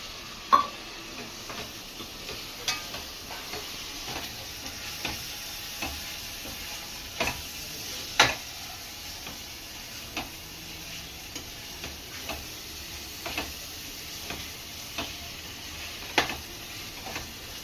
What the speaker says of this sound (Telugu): టమాటా వేసేద్దాము మసాలా వేగిపోయింది టమాటా వేసేద్దాం